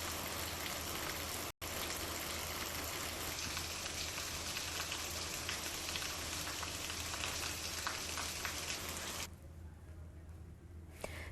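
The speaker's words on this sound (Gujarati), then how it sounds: "સુરતમાં મેઘમહેર થઈ રહી છે" Monsoon rain falling steadily in Surat, a dense continuous hiss of drops with a brief dropout near the start and a softer, thinner patch toward the end.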